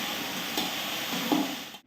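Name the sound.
frying potatoes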